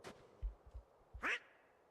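Cartoon duck quacking in Kingdom Hearts II, a soft thud or two and then one sharp, nasal quack, close and clear over quiet background.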